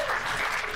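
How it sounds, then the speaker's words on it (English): An audience at a Christmas party claps in a dense, loud round of applause, continuous through the short moment without a break. "give all of our participants a round of applause"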